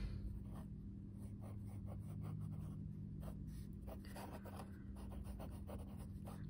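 A fountain pen nib scratches steadily across paper at close range, with soft irregular strokes over a constant low hum and no talking.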